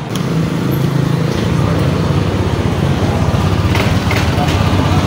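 A Yamaha Aerox 155 scooter with a faulty rear bearing is on a road test, its engine droning steadily at close range with wind and road noise throughout, and no clear speech over it.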